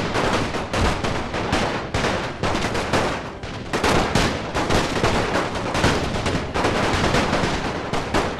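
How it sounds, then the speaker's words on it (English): Dense gunfire from a First World War strategy game set on the Romanian front, with rifles and machine guns crackling continuously and heavy bursts rising and falling throughout, loud and without pauses. "They're shooting at my other line"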